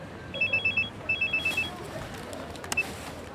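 Telephone ringing indoors in a French TV drama scene: two close bursts of electronic double-tone rings, then a brief click as it stops.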